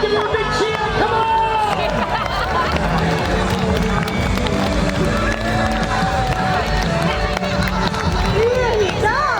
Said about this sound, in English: Come on, everyone, give her a big cheer!